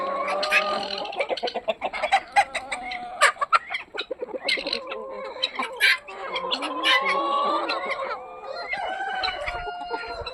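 Several chickens cluck and squawk in overlapping bursts, close and lively, with drawn-out calls rising above the busy chatter.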